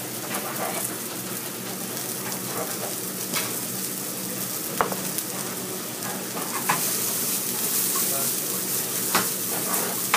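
Mushrooms frying in a hot pan during French omelette preparation, a continuous close sizzle and crackle that grows slightly louder toward the end, with a few sharp clicks of utensils.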